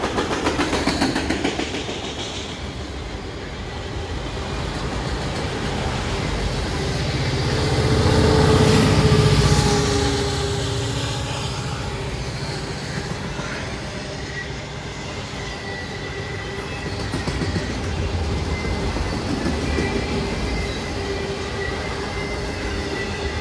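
A Conrail freight train with a DPU locomotive rolls past, its wheels clattering and squealing steadily as the locomotive's rumble swells loud near the middle and then eases back into continuous car noise.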